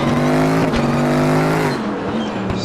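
A race car engine held at full throttle in RaceRoom Racing Experience, a loud, steady high-revving whine with harmonic tones that dip briefly at a gear shift before easing off near the end, no talk.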